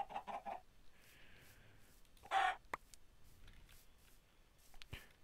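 A Minecraft chicken gives a few short, quiet clucks spaced apart against faint game ambience, with small scattered clicks and no talking.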